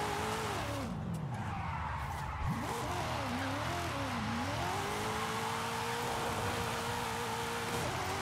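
Car drifting along a tight, narrow sandy road in Forza Horizon 5, its engine droning steadily with a rising and falling pitch as it slides through bends, tire scrub running continuously and fairly loud throughout.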